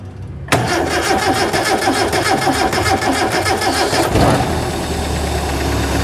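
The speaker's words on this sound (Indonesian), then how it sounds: "Biar mengalir dulu dari aliran bensin baru di start. Yuk start." A carbureted Zebra 1.3 car engine that is hard to start is cranked loudly for about three and a half seconds, then catches and continues as a steady, close-up running drone.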